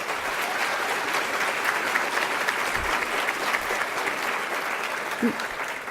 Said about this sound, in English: So let's have a round of applause for our volunteers.